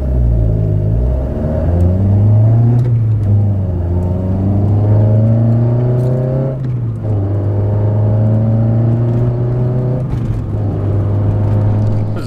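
A Toyota 4A-GE engine in a car out on a road tune, loudly revving and accelerating through several gears, its rising drone dropping with each shift before climbing again, close and continuous.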